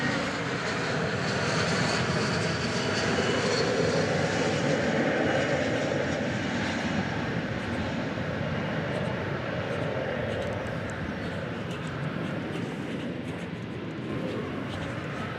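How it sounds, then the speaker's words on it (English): An American Airlines Boeing 787 Dreamliner departs DFW Airport for Phoenix on a summer morning, its engines a steady, broad roar that holds for the whole stretch and eases slightly toward the end, with faint voices mixed in. "American Dreamliner going off to Phoenix"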